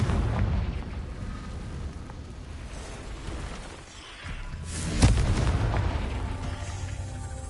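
The Confringo spell in Hogwarts Legacy is cast and explodes. A low, rumbling blast rolls under steady game ambience, and a sharper burst lands near the end.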